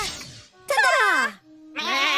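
A cartoon goat girl bleats in two long, wavering, quavering calls separated by a short pause, loud and close, with a voiced, sung quality suggesting a performer imitating a goat.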